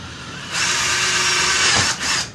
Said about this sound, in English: Drill a hole. But you only go through this first layer.